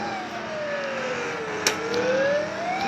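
Ambulance siren in the open-world video game Dude Theft Wars, a wailing tone sweeping down then rising again, fairly loud over a steady engine and traffic bed with a sharp click midway.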